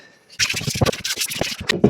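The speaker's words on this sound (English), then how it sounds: "I'm just going to get the spots I couldn't get with the sanding block, which is with some sandpaper in my hand." Sandpaper held in the hand rubs in quick, close, uneven scratchy strokes over a guitar body, starting after a brief quiet moment.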